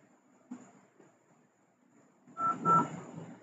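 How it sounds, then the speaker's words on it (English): Touch-tone DTMF dialing of extension 200 on an Asterisk phone system: a few short bright tone beeps in quick succession near the end, fairly quiet, after a stretch of faint background noise. "Let's dial 200 extension again."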